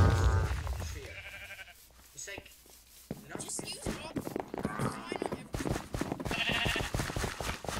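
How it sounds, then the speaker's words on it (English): Sheep bleating in a Minecraft Hypixel mini game, several short bleats scattered through lively speech and game noise, fairly loud and mixed under talking. "Super sheep to the rescue!"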